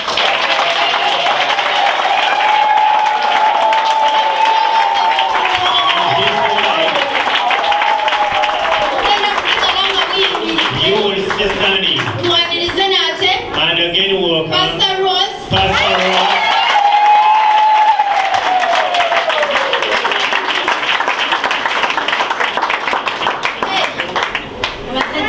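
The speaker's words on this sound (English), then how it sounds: "We will come with a mighty hand clap" A crowd at a 2016 gospel album launch rises and claps hard together, loud and close, mixed with cheering and a singing voice over music.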